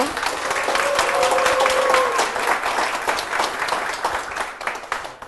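Church congregation applauding to welcome a guest onto a broadcast stage, sustained clapping for about five seconds that swells and then gradually thins, with a brief tonal sound near the start.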